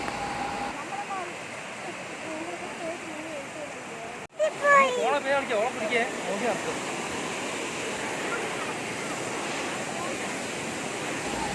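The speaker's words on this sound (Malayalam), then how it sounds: "കാണുന്നതാണ് വാട്ടർഫാൾസ്." Thirumoorthy falls pours as a constant, broad rushing roar that fills the whole scene, with a voice talking over it partway through.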